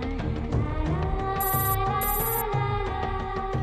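Telephone ringing in a Hindi-dubbed South Indian crime film, a loud electronic ringtone with a repeating melodic pattern and two short high chirps, heard alone without talk.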